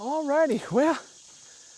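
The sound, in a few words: cicadas buzzing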